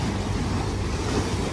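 Aegean Sea surf breaks along the Izmir coast in a continuous broadband wash, loud and close, mixed with wind buffeting the microphone and no voices.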